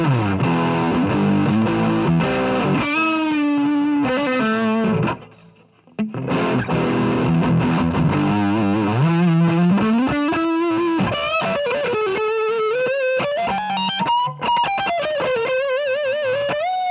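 An Epiphone SG electric guitar plays through heavy distortion with effects, sustained chords and bends ringing out loud and close, with a brief near-silent gap partway before the playing resumes.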